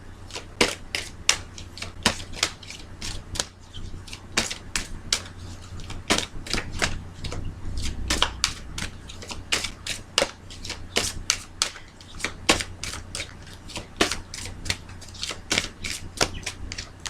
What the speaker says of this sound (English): So I'm going to go ahead and shuffle these cards and provide these here.